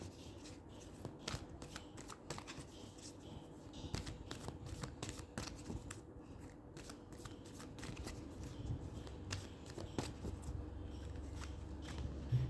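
Tarot cards shuffled and handled by hand, a steady run of papery riffles and soft slaps repeating close up with no talk.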